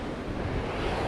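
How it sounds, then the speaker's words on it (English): Surf crashing onto an Atlantic barrier-island beach during surf fishing, a steady, loud, broadband wash of breaking waves with constant roar and some wind buffeting, no voices. "So when the waves are crashing"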